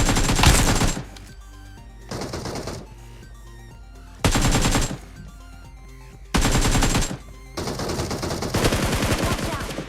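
Video game gunfire in a shooter match while eliminating enemies: loud bursts of automatic fire and shots come in several separate volleys, with quieter game ambience between them.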